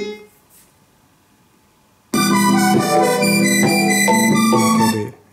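After about two seconds of near silence with faint noise, a self-made piano instrumental bursts in loudly from a small speaker, sustained chords and melody playing continuously for about three seconds before cutting off.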